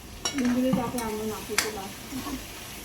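Tomatoes and chillies are added to a spiced tempering with ginger for moong dal in a pan, giving a brief sizzle and stirring scrape near the start, then quieter frying as a voice speaks over it.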